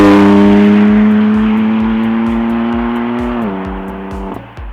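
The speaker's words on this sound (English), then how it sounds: "let's go on a good drive and see what the M4 feels like on the roads" A BMW M4 Coupe F82 with its engine droning steadily on the road, a held tone easing down as the revs drop near the end, loud and close with no voices.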